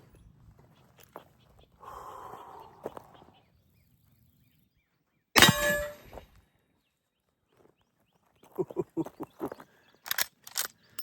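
A .44 Magnum round fired from a Rossi R92 rifle at Temu body armor gives one sharp, loud report midway, set between quiet stretches with soft movement noises and scattered handling clicks.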